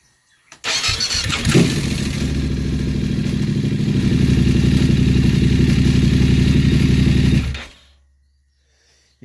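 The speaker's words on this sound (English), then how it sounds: "We'll start the bike up now and see if it rattles." BMW F850GS motorcycle engine cranking and starting with a clattery timing chain rattle, then idling loudly and steadily up close for several seconds before cutting off abruptly into silence.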